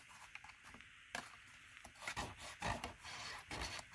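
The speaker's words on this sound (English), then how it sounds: "I'm just rubbing that side down as best as possible" Paper is rubbed down by hand to press it onto adhesive in a stamping craft project, giving quiet, close, irregular scraping and brushing strokes.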